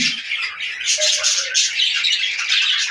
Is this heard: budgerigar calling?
yes